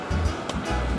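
Water of the Pasig River at Barangay Buhangin Bato, Mandaluyong, sloshing and washing steadily in a broad surf-like rush, close and continuous with a few louder swells.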